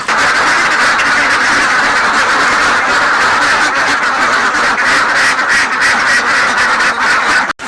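A flock of ducks quacks continuously and loudly on a pond in an integrated duck and fish farm, many overlapping calls forming a dense, steady chorus that stops abruptly at the end.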